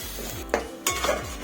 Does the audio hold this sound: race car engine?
no